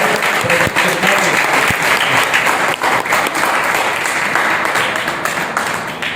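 Audience applause fills a Hindi poetry or comedy stage show, a dense, steady wash of many hands clapping close and loud that holds for several seconds before easing slightly at the end.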